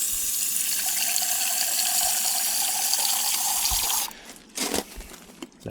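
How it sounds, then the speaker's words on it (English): Tap water running steadily into a container during a rinse, a constant hiss and splash that cuts off abruptly near the end, followed by a few sloshes and clunks. "I'll just rinse this out."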